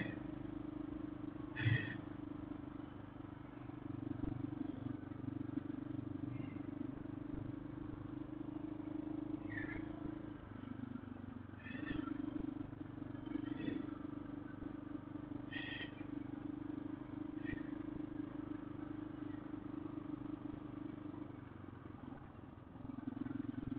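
Motorcycle engine droning steadily while riding a trail, a continuous near hum that dips and swells with throttle changes, with occasional clatter over bumps.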